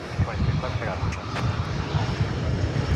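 An American Airlines Airbus A321 arrives from Los Cabos at Dallas-Fort Worth airport, its engines giving a continuous, moderately loud rumbling roar from a distance.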